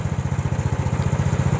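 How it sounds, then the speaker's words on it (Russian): A motorized snow tow idles while warming up in frosty winter conditions, its engine thudding in a fast, steady, close-up rhythm with no voices. "Пока греется буксировщик"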